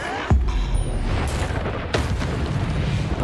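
Two sharp magical blasts from a Confringo fire spell in the Hogwarts Legacy video game, the first near 0.3 seconds and the second around 2 seconds, each bursting out over a steady rumbling game background.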